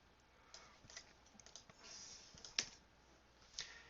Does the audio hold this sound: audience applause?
no